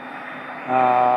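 A landed airplane at Scottsdale airport shuts its engines down, heard as a steady tonal engine whine that rises and swells louder near the end of this brief moment.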